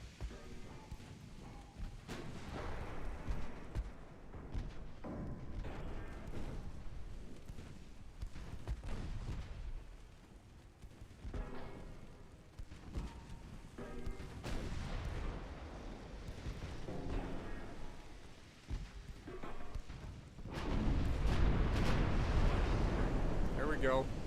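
Naval gunfire in the Ultimate Admiral Dreadnoughts battleship game, a 1900-era German campaign, with repeated deep booming shots and rumbling impacts. A loud sustained roar of fire comes near the end, and a voice talks over much of it.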